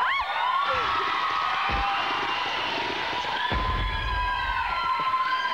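A siren wails with a cycling, warbling tone over a noisy crowd in a TV show studio, with a couple of low thumps in between.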